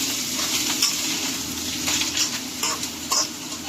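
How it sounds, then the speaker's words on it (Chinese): Preserved mustard greens stir-fried in a pan, a constant sizzle broken by several scraping strokes of the spatula at irregular intervals. "梅干菜也顺利加进来了，我们现在就翻炒翻炒了"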